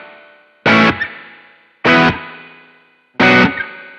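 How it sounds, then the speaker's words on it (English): Electric guitar run through a spring reverb effect, three loud, heavily processed strikes spaced about a second apart, each ringing out with a long splashy reverb tail before the next hit. "it has this spring reverby sort of thing that I guess was on the record, so we recreated it."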